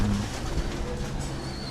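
Breeder pigeons coo softly in a loft, low murmuring calls close by over a steady background hum, with no talking.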